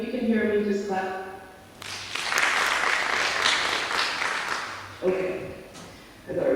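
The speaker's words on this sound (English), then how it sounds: "If you can hear me, just clap." An audience breaks into applause for a few seconds between stretches of someone talking, the clapping swelling then fading as speech resumes.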